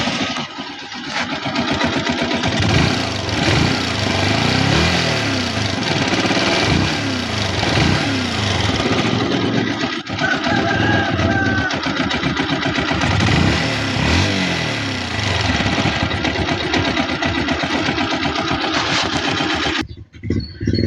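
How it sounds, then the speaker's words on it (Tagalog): A nearly new TMX Alpha motorcycle engine runs steadily and loudly with a rough, pulsing, rattly idle, continuing without pause before cutting out near the end. "Start muna natin yung motor ni Boss Dayo from Nazareno, Hermosa, Bataan."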